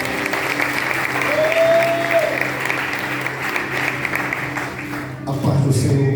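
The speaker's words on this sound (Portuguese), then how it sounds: "Ele merece uma salva de palmas." A church congregation applauds during a worship service, sustained moderate clapping with a brief tone and background murmur, tapering near the end as a voice begins.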